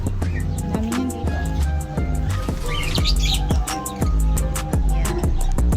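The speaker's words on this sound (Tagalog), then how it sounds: "Ayan po yung mga ibon niya." Several caged pet birds chirp and tweet in quick repeated bursts, sharp calls stacking close and loud over a busy indoor background with occasional thumps.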